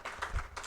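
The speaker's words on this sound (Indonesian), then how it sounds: "Tepuk tangan" Audience applause in a Ramadan iftar religious gathering of hadith recitation, a short burst of clapping with a low thump partway through.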